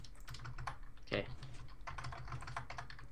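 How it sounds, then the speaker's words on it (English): Typing on computer keyboards during a Minecraft adventure map session, a steady patter of clustered key clicks running throughout with one louder burst near the middle. "You can hear us typing"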